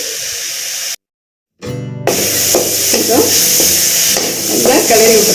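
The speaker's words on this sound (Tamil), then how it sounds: "நல்லா கிளறி விட்டுக்கலாம்." A spatula stirs beetroot rice masala with tomato, onion, turmeric and chili powder in a hot pan, making loud scraping over a steady sizzle. The sound cuts out briefly, then the stirring and frying resume.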